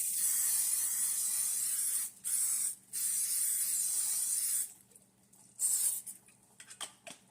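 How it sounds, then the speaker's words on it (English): Cooking spray hisses steadily onto a pan in long close bursts, broken by two brief pauses, then a few shorter spurts and light clicks of the can near the end. "I'm just going to use this cooking spray right here to oil the pan first"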